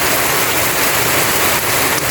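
Steady rain falling in the early evening, a dense, even hiss of drops that stays loud and unbroken throughout, with no clear gaps or pauses.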